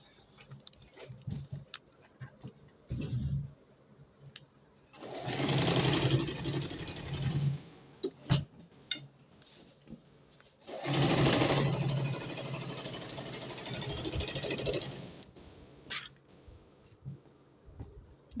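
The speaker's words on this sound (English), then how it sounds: "So I'll start from here and sew." A sewing machine stitching fabric for a hand-cut garment: two sustained bursts of close, rapid mechanical whirring of several seconds each, separated by quieter handling clicks and fabric rustle, no talk.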